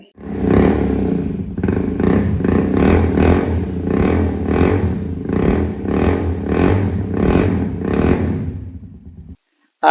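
A Power 200 motorcycle engine runs loud and close, revving in repeated bursts before cutting off abruptly near the end.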